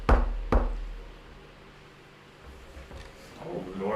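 Two firm knocks on a door land in quick succession near the start, followed by a quieter stretch with faint room noise and a soft rustle toward the end.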